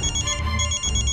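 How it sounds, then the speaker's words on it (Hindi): A phone rings in a domestic scene from a Hindi TV drama, playing a repeating electronic ringtone pattern at moderate volume with a steady pulsing rhythm. "किसका फोन है नायरा?"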